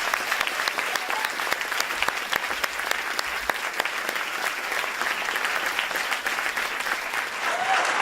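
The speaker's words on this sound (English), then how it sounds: "Et là, vous pouvez applaudir." Audience applause filling a hall at a Cannes Film Festival masterclass, a steady, dense clapping crowd that holds at an even level through the whole stretch, with faint voices underneath.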